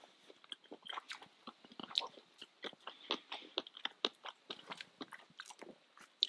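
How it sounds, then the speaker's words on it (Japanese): Close, crisp bites and wet chewing of octopus carpaccio at a winter solo campsite, a steady run of soft crunches and squelches repeating for several seconds with no talking. "じゃあタコいただきたいと思います。"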